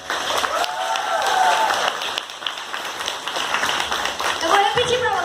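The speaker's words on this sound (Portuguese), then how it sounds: "Aplaude Jesus." Applause and clapping from a church congregation fill the space, mixed with voices and cheering that rise and fall.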